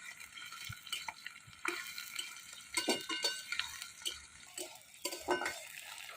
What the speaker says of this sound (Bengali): পেঁয়াজ ভাজা সেন্ট বাড়ায় গেছে।